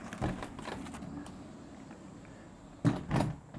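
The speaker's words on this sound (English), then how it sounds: "the doors fold back" Folding accordion doors between a deck and a sunroom being pushed back, giving a few soft knocks and rolling clunks, then a quiet stretch before two sharper bumps as the panels settle.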